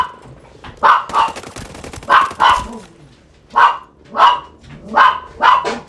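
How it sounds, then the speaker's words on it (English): Two big dogs fight in a video game, giving off sharp, loud barks and snarls in quick pairs, about eight bursts spread evenly over several seconds, with no talking. "the two big dogs start fighting, and Roxy can't stand that."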